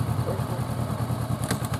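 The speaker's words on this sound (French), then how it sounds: "Tu mets 4000 tours, tu écoutes, bête et méchant, écoute leur moteur" A motorcycle engine is held at around 4000 rpm with the clutch slipping on a slight slope during a U-turn, making a steady, close, rumbling drone with a faint rattle and a brief brighter burst near the end.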